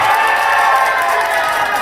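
An audience in an underground shopping mall claps and cheers at a fan signing event for a singer, a loud, steady wash of applause and shouting heard close by.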